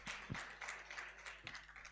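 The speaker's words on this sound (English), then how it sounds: "Please, a round of applause one more time for Natasha Mutai." Scattered, moderately close clapping from a modest audience at a culture launch event, individual hand claps audible in an uneven rhythm over a low steady hum.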